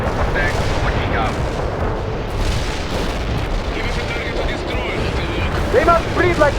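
In the World in Conflict battle, a Molotov strike and gunfire make continuous rumbling booms and crackling bursts of fire under loud battlefield noise, with radio voices talking over the din.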